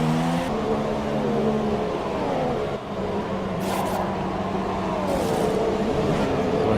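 A race car in the F1 2018 video game at the Austria circuit makes a pit stop during a switch to intermediate tyres, a loud steady engine drone with shifting pitch and brief higher whirring bursts.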